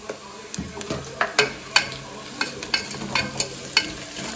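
Onions fry in a pan at home, with a soft continuous sizzle broken by repeated sharp scrapes and taps of a spoon stirring them, close by and fairly quiet.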